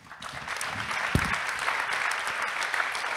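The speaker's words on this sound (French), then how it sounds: "On peut les applaudir." Audience applause for the speakers at a French pitch event, a sustained crowd of clapping hands that swells after a brief start and holds steady to the end, with one low thump partway through.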